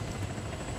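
A helicopter in the video game Arma 3 gives a brief, steady rotor whir, heard alone with no talk.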